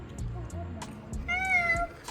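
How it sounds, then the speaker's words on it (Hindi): A cat meows clearly and close by in a couple of short, rising calls during an outdoor travel stop in Pahalgam, Kashmir, with a faint voice alongside. "बिल्ली करती म्याऊ म्याऊ।"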